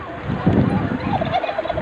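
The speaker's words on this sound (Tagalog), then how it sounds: "So, ang dami pong may mga pabo." Several turkeys gobble by a downhill road in Barangay Mangan, Dampay, their warbling calls rising over steady wind and riding noise, loud and close, with no one talking.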